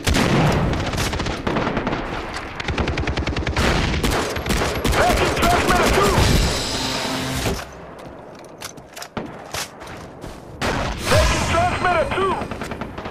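Far Cry 3 multiplayer combat fills the scene with rapid bursts of gunfire and heavy booms, loud and dense at first, thinning into scattered shots before another flurry erupts.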